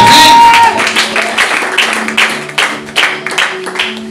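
A church congregation applauding the Lord, giving loud scattered clapping with uneven bursts throughout, while a voice rings out over it near the start.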